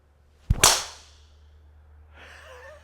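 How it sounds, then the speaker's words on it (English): A golf club is swung hard, snapping a tee off a practice mat with one sharp, loud whip-like crack. A fading airy trail follows, then a faint rustle near the end, with no voices. "I'm going to snap the tee into a somersault to the corner of that mat right there."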